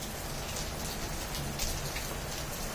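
Steady rain falling outside, a dense, even hiss of drops on surfaces with no talk over it.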